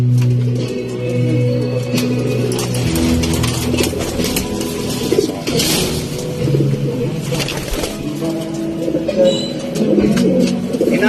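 Close, soft cooing of a pigeon repeating in low throaty bursts, with some rustling and handling noise around it.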